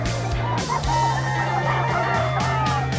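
Chickens cluck and call nearby, a mix of short honking clucks and drawn-out fowl calls layered over a busy background.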